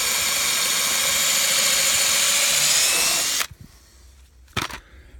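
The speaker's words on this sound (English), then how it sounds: "just drill a 10mm hole in the end of the rail" A power drill bores a 10mm hole into the end of a fence rail, a loud continuous whine that cuts off abruptly, followed by a couple of brief knocks.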